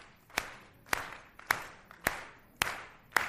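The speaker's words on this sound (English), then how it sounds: "Now that's called a baritone clap." Hand clapping in a cupped baritone style, the palm curved to catch air, at an old-time music concert: six sharp, evenly spaced claps roughly every half second, close and clear with no talking.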